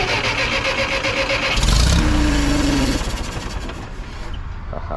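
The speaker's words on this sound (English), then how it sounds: "I'm gonna give it a little bit of ether just to make sure we got some spark in this thing." The engine of a Case 530 Construction King forklift cranks, then catches and runs loud and close, surging before settling into a rougher, uneven idle.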